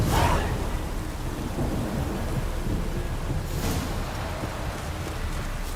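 A thunderstorm in The Witcher 3, with steady heavy rain on surfaces and deep rolling thunder, including a crack at the start and another swell partway through, and no speech.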